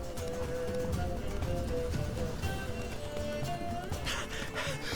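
Geralt's horse Roach gallops in The Witcher 3, hooves clip-clopping in a quick steady rhythm under a bed of ambient music, fairly faint and continuous throughout.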